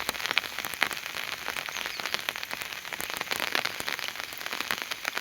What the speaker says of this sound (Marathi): पाऊस पण सकाळ सकाळी चालू झालेला आहे।